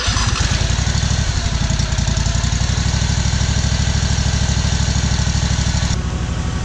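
Power steering pump system running to build pressure in a reservoir, driven by an engine that idles in a loud, steady, even drone close by for the whole stretch, with no talking.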